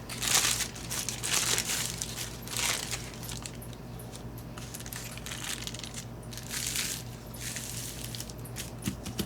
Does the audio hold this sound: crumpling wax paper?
yes